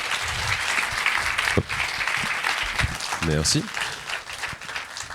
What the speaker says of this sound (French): Et merci à vous, vous pouvez applaudir.